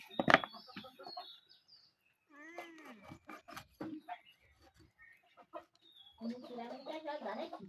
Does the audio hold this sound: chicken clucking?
yes